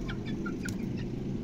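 A rooster, a hen and a chick cluck softly and briefly at close range, several short calls in quick succession.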